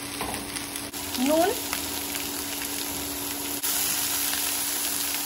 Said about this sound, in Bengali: অর্ধেক পেঁয়াজটা ভাজা হয়ে যাওয়ার পর আলুগুলো দিয়ে দিলাম,